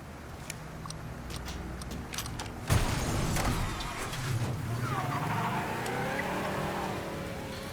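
A car in Mafia 3 drives recklessly, engine revving and accelerating with a sharp thump partway through, followed by a rising, sweeping motor whine that continues close and fairly loud, with voices heard faintly alongside.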